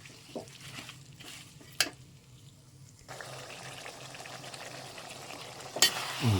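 Tuna fish pickle masala being stirred in a pan: a soft, low bubbling sizzle with occasional scrapes and clinks of a spoon against the pan, quiet and close, growing slightly busier toward the end.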